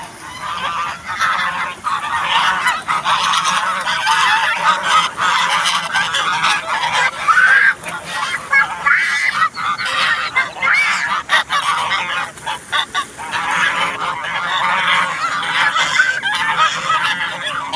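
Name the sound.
water hens honking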